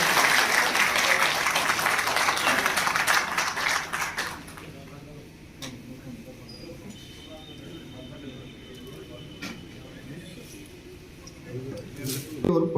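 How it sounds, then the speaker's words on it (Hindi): A crowd of officials and village heads applauds at a government meeting with an education minister. The clapping is fairly loud for about four seconds, then falls to a low murmur of room noise and scattered movement. "एक बार तालियां हो जाए सभी"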